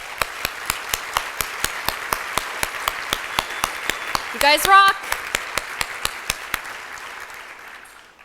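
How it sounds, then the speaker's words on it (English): An audience at a charity breakfast claims a big round of applause for the volunteers, steady rhythmic clapping from a crowd heard at moderate level, with a voice briefly calling out over it partway through. "Let's give them a big round of applause."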